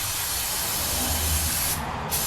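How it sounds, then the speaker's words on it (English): Carb cleaner sprays in one continuous loud hiss onto the hot carburetor of a 2003 Harley-Davidson Sportster 1200 CV, close up and steady for about two seconds. "What do I do with my carb cleaner?"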